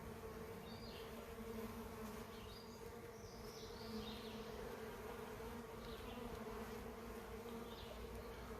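Honey bees from a 3 lb package buzz steadily and densely throughout, a close continuous hum with faint higher whines from individual bees drifting past, no voices.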